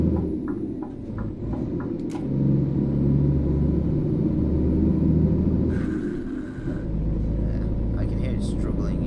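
A heavy truck engine in the video game Euro Truck Simulator drones and labors at low pitch with a steady rumble, a truck needing a gearbox replacement, a few clicks and faint chimes breaking through.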